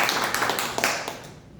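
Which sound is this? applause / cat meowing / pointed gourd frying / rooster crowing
applause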